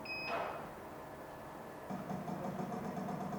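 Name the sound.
salt feeder motor of a RoboPop 60 popcorn machine running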